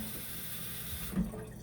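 Cold water runs steadily from a tap into a sink, a continuous hiss that briefly swells toward the end as the flow shifts.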